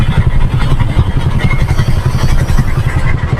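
A Yamaha PG1 motorcycle engine runs loud and close with a steady, rapid low-pitched chugging, broadband mechanical clatter throughout and no voices.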